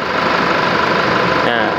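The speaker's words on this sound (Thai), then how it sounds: "เดี๋ยวให้ทีมงานสตาร์ทเครื่องยนต์นะครับ" The engine of a Chevrolet Trailblazer runs at a steady idle close by, a dense mechanical drone with a faint knocking texture throughout.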